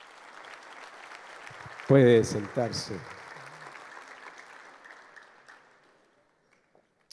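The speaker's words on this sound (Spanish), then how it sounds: "Démosle un aplauso a estos hombres" A Spanish-speaking church congregation applauds the fathers present, a wash of clapping that runs beneath a man's brief spoken words, then tapers off into near silence.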